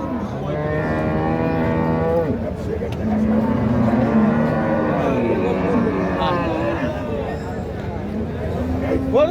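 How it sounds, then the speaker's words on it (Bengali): Friesian dairy cow mooing at a busy cattle market, drawn-out lowing calls that rise and fall over several seconds, close and loud, with people talking and general market hubbub throughout. "এই গরুটা কি জাতের ফিজিয়ান"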